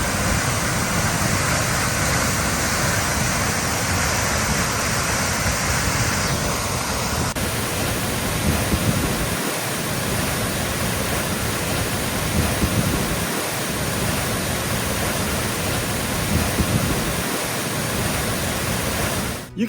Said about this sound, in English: top of the trail opens up to Lesser Christie Falls. You can get quite close to these.